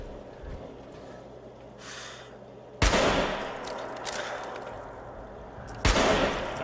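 Two sharp, loud rifle shots from the video game Fallout 4 ring out about three seconds apart, each with a broad crack and a trailing echo over a low ambient background.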